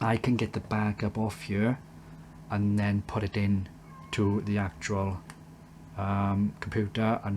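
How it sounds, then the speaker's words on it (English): A cat meows somewhere upstairs in a home, faint and intermittent beneath continuous nearby speech. "that is the cat meowing up there"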